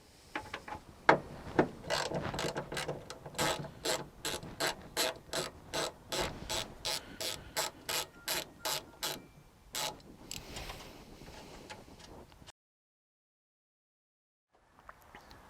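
Ratchet wrench clicking while undoing bolts on the gearbox cover of a Morris Minor in a dim garage, a regular series of sharp close clicks in quick rhythmic strokes for about ten seconds before falling silent.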